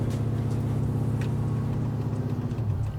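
A truck with a BTR Truck Norris cam idles on a dyno, its lumpy engine rumble steady and close throughout with a slightly uneven rhythm.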